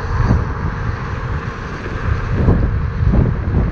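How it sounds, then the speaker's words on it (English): Wind buffets the microphone in a constant low rumble with gusty surges throughout while riding a Dualtron Mini electric scooter at about 42 km/h. "It is quite windy today"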